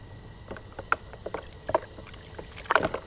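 Wheel brushes clatter and knock around in a bucket of water during wheel cleaning, giving scattered splashy knocks and sloshes at close range with no talk.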